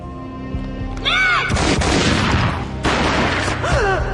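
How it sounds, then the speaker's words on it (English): Two heavy booming gunshot blasts in the video game Max Payne, the first around mid-clip and a second a little later, with rising whooshing tones before them and music humming underneath. "A gunshot boomed and she fell down in slow motion"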